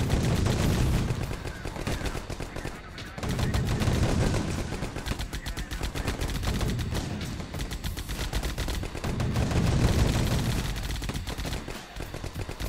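Sustained automatic gunfire in the 9th Company: Roots of Terror video game crackles in long, dense bursts with barely a pause, loud and continuous across the whole stretch.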